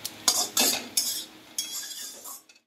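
Poppy seeds frying with bottle gourd peel in a pan, heard as a few sharp scraping stir strokes and utensil clinks over a faint sizzle, close and fairly quiet.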